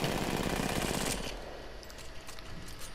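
The RE45 pistol in Apex Legends fires a rapid automatic burst for about a second, a dense rattle of close, loud shots that stops abruptly and leaves a quiet tail.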